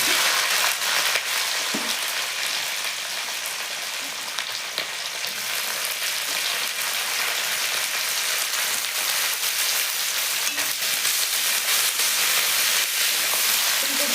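Cauliflower with green chillies, ginger and garlic frying in a pan for vegetable egg chowmein, a steady loud hissing sizzle running without a break, close up, with faint stirring scrapes and no voices.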